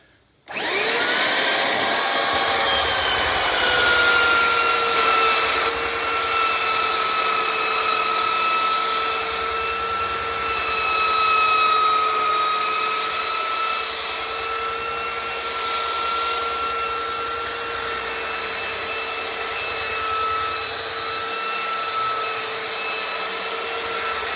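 A belt sander fitted with a coarse 50 grit belt runs steadily against a wooden boat transom, a loud, continuous whining drone with a droning hum, sustained throughout with slight variations in pressure.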